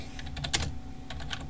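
Someone types on a computer keyboard, making light, quick key clicks in a short uneven run. The clicks are close but soft, with one louder tap.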